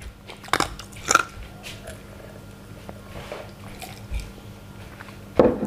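Close, wet chewing and biting while eating om khi lek, a Thai curry of cassia leaves with beef tendon, with soft crunches and squishy mouth sounds scattered across the stretch.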